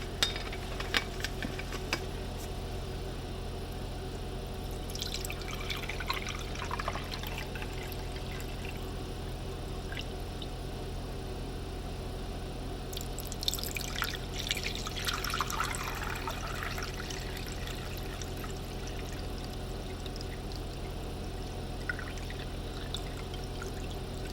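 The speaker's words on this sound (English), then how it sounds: "we're going to want to pour our TAE solution from before" TAE buffer solution is poured from a container over an electrophoresis gel in a lab, a faint trickling pour that swells in two longer streams against a steady background hum, with no voices.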